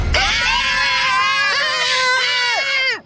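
Frightened children scream in an animated horror story, several high, wavering voices shrieking together loudly and continuously for about three seconds before cutting off.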